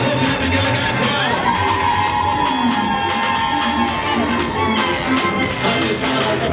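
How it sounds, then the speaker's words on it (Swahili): Guests at a wedding keep up a dense, steady roar of applause, whoops and ululating trills, the crowd noise close and unbroken with scattered voices woven through it. "Jamani, makofi na vigelegele kwao."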